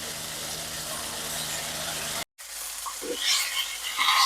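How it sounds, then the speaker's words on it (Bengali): Potatoes frying with turmeric in a pan give a steady close sizzle, broken by a short cut partway through, then a quieter sizzle with a few soft clatters. "আলুটা ভাজা হচ্ছে"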